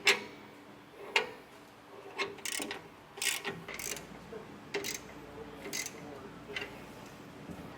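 A ratchet wrench clicks in quick bursts while bolts on an over-the-cab ladder rack on a 2011 Ford F-150 are tightened down, with a few sharper metal knocks and quiet gaps between.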